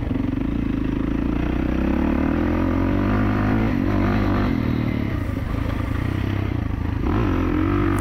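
A 2024 Kawasaki KX450 dirt bike engine runs steadily at moderate throttle during an easy break-in ride, a continuous loud droning motor with some clatter and small surges, heard close throughout with no talking.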